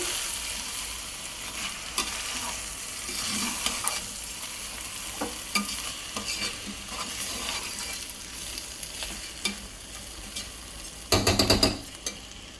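Rice frying in a hot pan at home while being stirred, a soft steady sizzle with scraping spoon strokes and a burst of sharp clattering near the end, with no voices.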